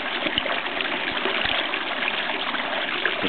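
Water pours through the outflow of a natural swimming pool in Kidneypools, a steady close rushing trickle with a few low thumps and no talk.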